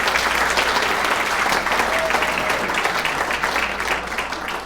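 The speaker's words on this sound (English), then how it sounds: "if we could give them a round of applause as well" A civic audience at a State of the City address applauds city staff, a full, steady roar of clapping from many people that carries on throughout with a faint hum beneath.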